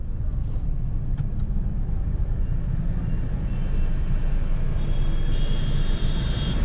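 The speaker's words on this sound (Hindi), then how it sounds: "बिल्कुल हाफ क्लच में गाड़ी को यहाँ पे चला रहे हैं" A car creeps slowly on half clutch through a crowded market, heard from inside as a steady, low engine and road rumble that stays even throughout, with a faint thin tone rising late on.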